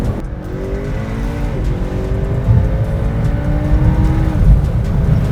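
A flood-rebuilt McLaren MP4 accelerates, its engine note rising steadily in pitch over a continuous loud low rumble of road and tire noise, heard from inside the car with no talking.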